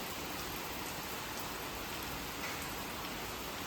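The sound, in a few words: heavy rain falling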